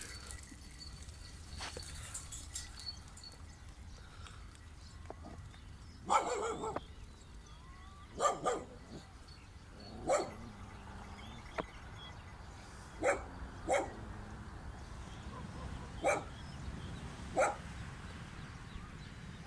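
Dogs barking outdoors near a flowering Songkran tree in Thailand, a series of sharp single barks spread every couple of seconds, moderately close over steady ambient noise.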